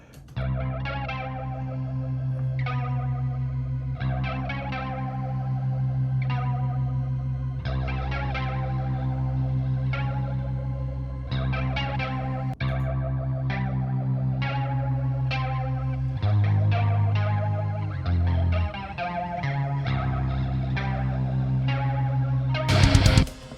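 A clean electric guitar played through a Petrucci amp plugin with chorus and echo, strumming sustained chords and picked notes in a steady rhythm, loud and close with no voices.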